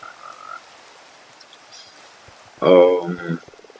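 Frogs in the Minecraft video game give a short burst of croaking near the end, loud and close, after a stretch of quiet ambient game sound.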